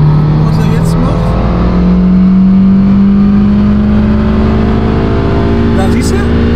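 A Fiat Panda 100HP engine revs high past 7000 rpm, a loud, steady rising drone heard close from inside the car throughout, with the engine note climbing gradually and no talk over it.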